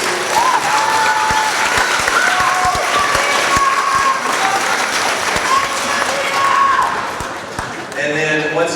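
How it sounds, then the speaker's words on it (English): Audience at a sixth grade band concert applauding the students' parents, a sustained loud burst of clapping with a few nearby claps standing out and voices faintly mixed in before fading toward the end. "Can we give them a huge hand for your parents, please?"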